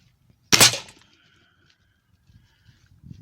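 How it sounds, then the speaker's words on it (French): A single sharp shot from a Weihrauch HW97KT air rifle on an outdoor range, a crisp crack with a short ringing tail, then quiet with faint rustling. "tu prends ton souffle, tu te concentres et tu tires"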